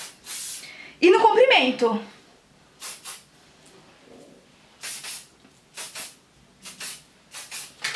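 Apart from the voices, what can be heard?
hair fixing spray being sprayed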